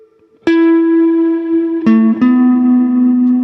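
An electric guitar played through a Strymon Cloudburst reverb pedal rings out in three sustained plucked notes, each blooming into a long, smooth reverb tail, close and loud with no talk.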